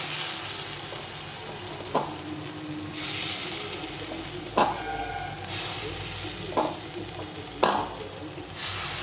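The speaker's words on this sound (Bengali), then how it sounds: "এভাবে করে সবগুলো বড়া আমি ভেজে নেব" Gondho leaf fritters (bora) frying in oil, a steady close sizzle with bursts of louder hissing spatter and a few brief clinks or stirs at intervals.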